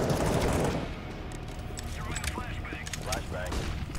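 Counter-Strike: Global Offensive gunfire: a dense burst of shots opens loud, then the firing drops to a steadier rattle of game sounds under a player speaking.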